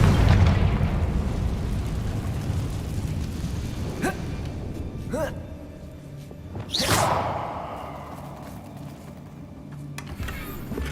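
A Confringo spell in Hogwarts Legacy blasts a damaged bridge: a deep rumbling boom that slowly fades, followed by sharp whooshing cracks and a second whooshing burst, loud and near with no talking.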